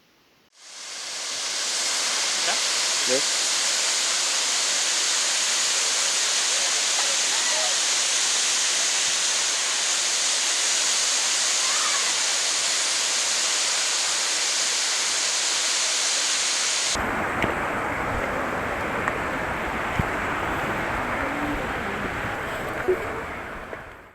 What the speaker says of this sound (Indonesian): Tinggi air terjun ini kurang lebih 130 meter dan terbagi menjadi 3 tingkatan